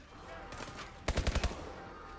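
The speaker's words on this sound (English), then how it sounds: "Who's shooting at me now?" Gunfire in Call of Duty: Advanced Warfare, a faint shot or two followed by a sharp, close burst of about five rapid automatic rounds, then fading background noise.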